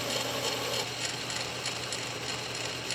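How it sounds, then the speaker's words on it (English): Small metal lathe cutting a taper on a locomotive connecting rod under power feed with half nuts engaged, a steady close mechanical whir and gear clatter running continuously without pause. "I'm just engaging the half nuts and letting this machine drive itself along"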